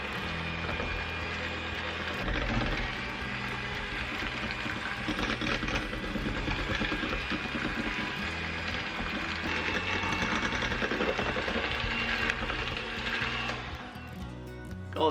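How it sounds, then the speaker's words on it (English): A hand mixer running on low speed mashes soft boiled cherry plums, giving a steady close whirring drone that holds for about fourteen seconds before cutting out. "You get your hand mixer."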